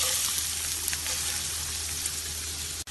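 Chopped large onion sizzling in a tablespoon of hot oil in a kadai, a steady close frying hiss with faint crackles, one brief scrape near the end.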